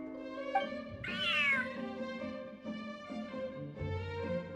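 A cat in the game Genshin Impact gives a loud, drawn-out meow close up, with softer cat calls and game sounds around it and no talking.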